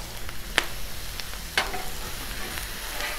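Chorizo sizzling on a 36-inch Blackstone griddle, a steady soft frying hiss with a couple of sharp scraping clicks from a spatula.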